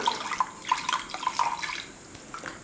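Water splashes and trickles into a pot in a series of short gurgling pours, fairly close, with no talking.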